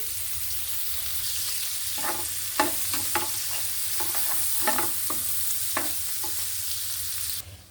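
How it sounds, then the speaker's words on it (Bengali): Chopped onions and green chillies fry gently in a pan with a constant soft sizzle, while a spatula scrapes and taps in short irregular strokes, close by, with no voices. "এখানে দিয়েছি বেশ কিছু পেঁয়াজ আর কয়েকটা কাঁচামরিচ কেটে দিয়েছি এটা আমি একটু আলতো করে ভেজে নেবো"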